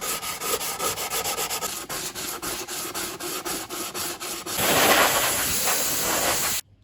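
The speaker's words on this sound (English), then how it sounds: "Let's give this a bit of a sanding." Sandpaper rubs over filler on the hull of a 1960s Veron Caribbean Coaster model boat, a steady rhythm of short rasping back-and-forth strokes, then a longer continuous hissing scrub, close and alone.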